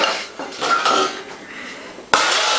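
Metal cutlery clatters and clinks against dishes, a few quick rattles followed by a sharper clank near the end.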